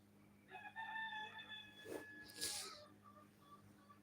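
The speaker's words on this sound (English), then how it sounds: "Just listen to the rooster" A rooster crows once in a drawn-out call, moderately faint and somewhat distant, followed by a few softer fowl sounds. No one speaks.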